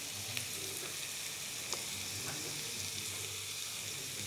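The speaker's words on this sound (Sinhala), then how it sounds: "ඊළඟට නූඩල්ස් ටික අපි මේකට දාලා හොඳට කලවම් කරගමු." Noodles are tossed and stir-fried in a pan, giving a steady close sizzle with faint, occasional clicks of stirring and no voices.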